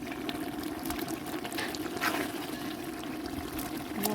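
Water poured into a simmering meat curry at a home feast, a steady trickling pour running throughout with no talk over it.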